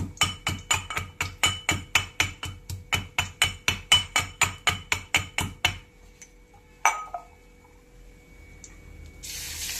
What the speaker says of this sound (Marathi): लसणाच्या पाकळ्या अशा चेचून टाकायच्या